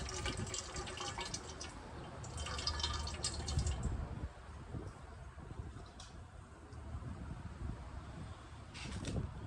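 Black bean dyed yarn, freshly wrung out, drips liquid back into a container, with faint splashes and trickles in uneven bursts close by and no talking.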